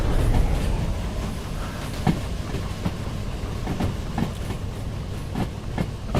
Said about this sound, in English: Just start pushing that locomotive.